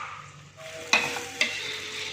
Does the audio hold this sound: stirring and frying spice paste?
yes